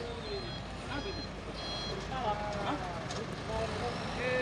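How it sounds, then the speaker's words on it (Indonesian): A large Hino trailer truck carrying a giant tank rumbles past nearby as rapid reversing beeps repeat, with engine drone and road noise underneath. "Ini ada truk trailer Hino Loan ini ya, membawa tong raksasa."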